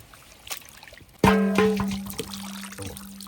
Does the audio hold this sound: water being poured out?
yes